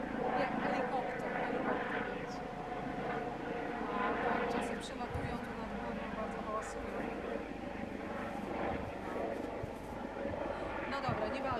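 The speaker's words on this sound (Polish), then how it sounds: "Samolot leci, jak helikopter." A fixed-wing airplane passes overhead outdoors, a steady, low engine drone that holds through the whole stretch beneath a continuous layer of ambient noise.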